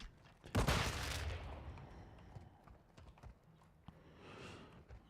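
Call of Duty gameplay with a grenade blast and gunfire: one sharp burst opens the clip, followed by a quieter, lingering rumble and a few scattered distant shots.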